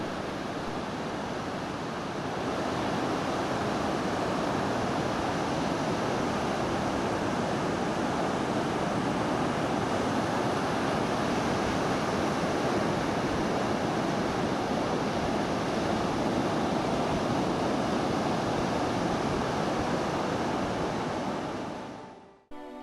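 Pacific Ocean surf rolling onto the Vancouver Island coast at Pacific Rim, a steady, dense roar of breaking waves with some wind, continuous and fairly close, cutting off at the end.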